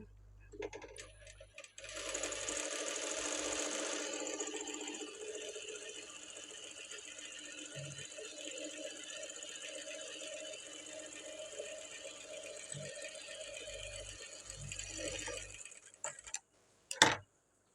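A sewing machine runs a long continuous seam on a blouse, giving a steady mechanical whir with fine ticking, then stops with a few sharp clicks of handling at the end, with no one speaking.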